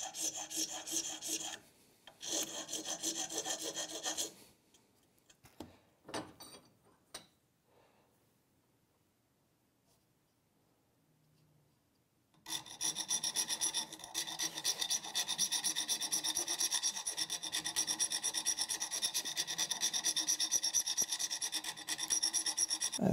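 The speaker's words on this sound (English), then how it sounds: "then we'll start filing nut slots in and then we'll shape this to the final shape" A file rasps steadily through the nut slots of a Telecaster guitar nut, close and continuous, with a quiet gap of scattered taps midway before the filing resumes loudly and evenly to the end.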